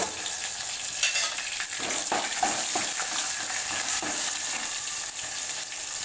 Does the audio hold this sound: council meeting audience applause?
no